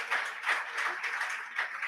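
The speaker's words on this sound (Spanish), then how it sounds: "fuerte el aplauso para Clar que ella" An audience applauds at a cultural gathering, a short burst of steady, moderately distant clapping with no break.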